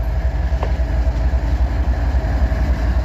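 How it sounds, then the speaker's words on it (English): An ES44AH AC locomotive train passes close by, a loud steady rumble with rhythmic clickety-clack of wheels over rail joints. "797, let's see what it is. ES44AH. And that is an AC locomotive."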